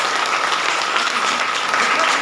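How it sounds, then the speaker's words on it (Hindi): Audience applause at a DXN branch meeting in Mandar, a loud, dense and steady burst of clapping from a hall full of people, with no voices standing out above it. "एक बार चाहते हैं जोरदार ताली होनी चाहिए"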